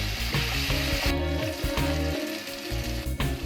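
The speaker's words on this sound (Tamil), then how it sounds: "தக்காளியும் நல்லா வதங்கணும், அது வரைக்கும் அதை நம்ம நல்லா கிளறி விட்டுடலாம்." Tomatoes sizzle steadily in a hot pan while being stirred, with soft scraping and clattering of a utensil over the continuous frying hiss.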